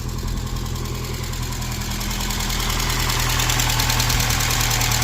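A Saab 900 SPG engine idles after its first start in about a year, a steady close rumble with a rapid ticking lifter tap running through it.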